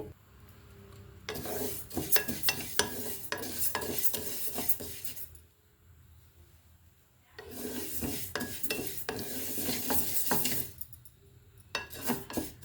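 Moong dal roasts in a pan for katte pongali, with bursts of scraping and rasping as it is stirred, separated by quieter pauses, close and without talk.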